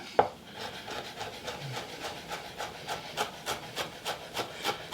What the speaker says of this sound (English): Then I roll it up and I slice it.